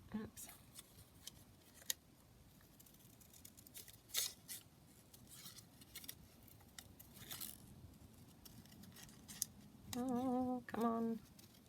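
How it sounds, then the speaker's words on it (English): Scissors snip through paper while cutting out a butterfly shape for altered book embellishing, a series of short close crisp snips with brief gaps, and a voice speaks near the end. "So I will just cut it straight out from this piece."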